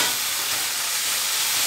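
Masala sizzles in a pan with fried onions for a mushroom masala curry, a loud continuous hiss and crackle of frying that runs steadily throughout.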